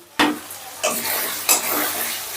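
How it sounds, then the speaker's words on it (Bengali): Ground spices (turmeric, cumin, coriander and red chilli powder) stirred in a hot pan for Bengali aloo paneer rice, with three distinct scraping strokes over a steady sizzle, fairly close and clear. "এবার সমস্ত মশলাটা 2-3 মিনিটের মতন আমি একটু নাড়াচাড়া করে নিচ্ছি।"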